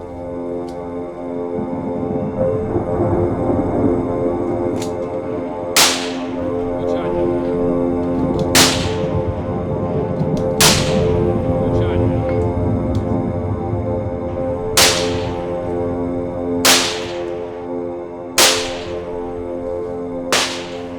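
Sharp rifle shots crack out one by one at irregular intervals, loud and close, at a shooting competition, over a constant hum and occasional talking.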